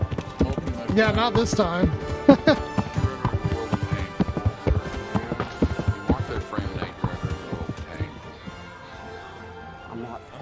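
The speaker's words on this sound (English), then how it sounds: "Okay, horse hooves are a little loud" Horse hooves clip-clopping in the video game Kingdom Come, a steady run of hoof strikes under someone speaking briefly over game dialogue and music.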